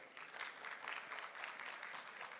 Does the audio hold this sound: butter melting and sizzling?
no